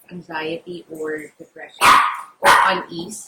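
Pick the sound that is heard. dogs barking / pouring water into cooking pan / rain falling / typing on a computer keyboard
dogs barking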